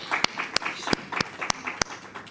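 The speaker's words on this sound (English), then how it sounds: "A big round of applause for her." Audience applause at the IATF2021 high-level roadshow event in Cape Town: about six sharp, evenly spaced claps over a diffuse crowd background.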